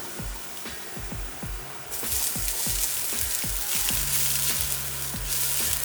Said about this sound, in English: And onion and garlic, something like that sizzling is always the best smell